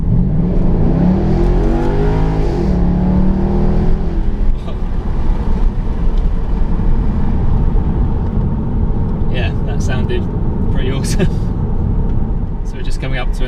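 Jaguar XK8 fitted with an Adamesh exhaust accelerates from about 20 to 40, heard from inside the cabin as a steady, loud engine drone with a rising rumble early on.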